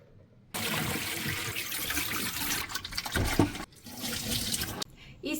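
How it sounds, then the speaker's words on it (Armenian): Water pours from an EcoViva reverse osmosis purifier in a loud, continuous splashing stream, with a short break partway through before it resumes. "Վերջին անգամ ենք թափում ու արդեն"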